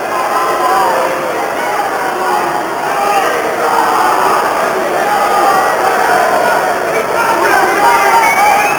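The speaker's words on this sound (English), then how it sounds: "In addition to the booing from the crowd" A large crowd at a boxing match at Mandalay Bay in Las Vegas keeps up a steady, loud roar of booing and shouting throughout, with no break.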